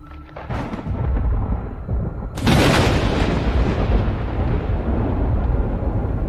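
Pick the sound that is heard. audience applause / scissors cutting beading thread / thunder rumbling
thunder rumbling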